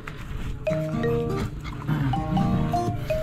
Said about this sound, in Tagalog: Ito naman ay isang pure dachshund.